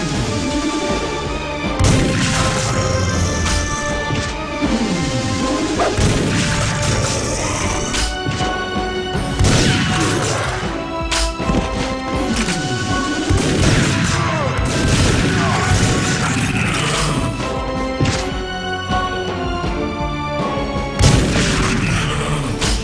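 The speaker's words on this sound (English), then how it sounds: "the emphasis in Time Splitters is shooting." Rapid gunfire and heavy booming explosions from the video game TimeSplitters play continuously and loudly, with dense overlapping shots, blasts and crashes.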